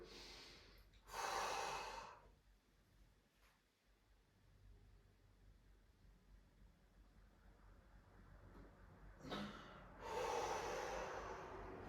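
Two deep, breathy inhales during a breathing and ab-strength exercise, one near the start and one near the end, each a loud airy rush separated by a long quiet stretch.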